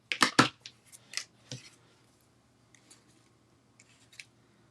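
Scissors slant-cutting the ends of paper pieces, a few quick crisp snips at the start followed by fainter, sparse clicks, close and quiet with no talking.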